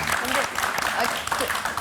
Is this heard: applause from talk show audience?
yes